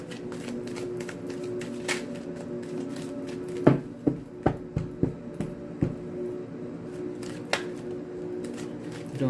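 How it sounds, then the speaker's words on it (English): Tarot cards are shuffled by hand, with soft papery rustling followed by a run of sharp, close riffle snaps and taps in quick succession. No one speaks. "And I'll do one more shuffle."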